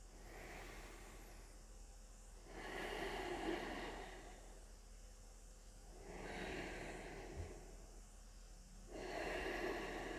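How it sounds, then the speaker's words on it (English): Deep breathing during a seated hatha yoga stretch, three slow rounds of long, airy inhales and exhales that swell and fade against a quiet low hum, close and soft. "taking 3 deep breaths"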